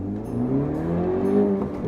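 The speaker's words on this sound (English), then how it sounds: "We're gonna do a 0 to 60 pull." A 2017 Honda Civic Si with a 1.5-liter turbo engine pulls hard from a standstill, its engine note climbing steadily in pitch through a short, loud, continuous burst heard from inside the car.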